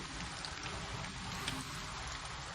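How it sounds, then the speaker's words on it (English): Steady rain falls in an even, continuous hiss of drops, moderately loud and unbroken, with no voices over it. "Don't you see it's raining?"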